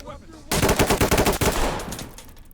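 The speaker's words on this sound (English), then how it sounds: "sometimes when you fire the gun, whether single shot or fully automatic, sometimes the gunshots don't seem to overlap with each other" Fully automatic rifle fire in the tactical shooter Ready or Not, a loud, rapid burst of closely spaced shots lasting about a second before tailing off into echo.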